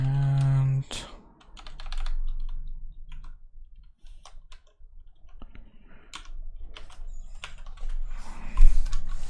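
Fast, irregular clicking of a computer keyboard during a programming session, with the keys clattering in quick bursts through most of the stretch and brief pauses between runs.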